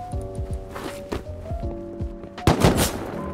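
AK rifle fire in a video game comes as several sharp shots spread across the moment, with a louder close burst near the end over game ambience and footsteps.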